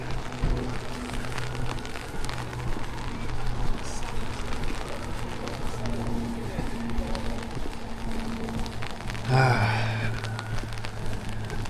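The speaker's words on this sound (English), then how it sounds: "A nice typical rainy Vancouver day." Steady rain falls on a wet Vancouver day, a continuous hiss of drops on surfaces with a low rumble of traffic beneath and a brief passing swell near the end.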